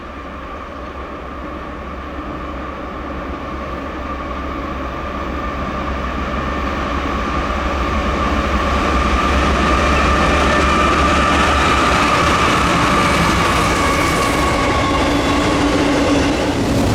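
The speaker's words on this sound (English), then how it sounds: "the next train, which was Norfolk Southern 25G, an intermodal, with 3 C6Ms" A Norfolk Southern intermodal freight train hauled by three C6M locomotives rolls steadily past at close range, a loud continuous rumble with wheel clatter that swells and holds throughout.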